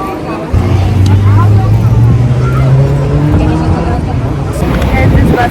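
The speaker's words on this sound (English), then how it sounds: "And this bus ride has been fun." Steady loud rumble of a hop-on hop-off tour bus riding through Paris, with an engine drone rising slowly in pitch as it accelerates, street noise around and voices chattering under it.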